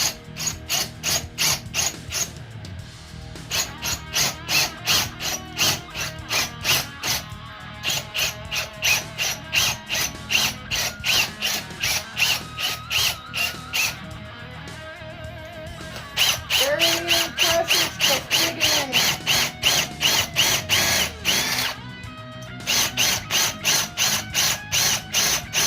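A Bad Dog 1/4 inch drill bit grinds through hardened steel with a long, loud run of evenly pulsing mechanical chatter that briefly eases and then resumes, with a voice heard faintly once.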